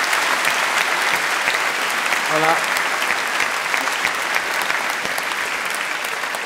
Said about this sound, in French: je veux qu'on les encourage bien fort, qu'on applaudisse tous ensemble la tête paralympique